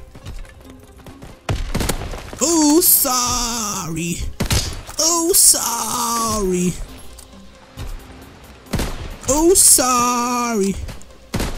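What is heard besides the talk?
gunfire in Call of Duty WW2 video game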